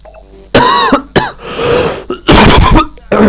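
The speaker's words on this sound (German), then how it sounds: "Immer dieser scheiß Husten, ey." Several loud, harsh coughs and throat-clearing bursts from a nearby person, coming in quick separate fits across the moment with short pauses between, no talk alongside.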